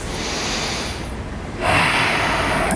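Heavy, forceful breaths during a plyometric bootcamp workout, close and loud: a long harsh exhale-like rush, a brief pause, then another strong breath, with no talking.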